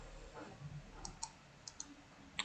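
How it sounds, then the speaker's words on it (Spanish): A computer mouse clicks while working in Excel, a handful of sharp, quiet clicks at irregular intervals over faint room hiss, with no speech. "Damos entonces clic derecho"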